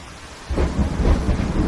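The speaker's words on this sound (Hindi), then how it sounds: "बारिश बहुत तेज थी" Heavy rain and rolling thunder in a cartoon, starting abruptly after a half-second hush, then a loud, steady downpour with deep rumbling that swells and holds without any voices.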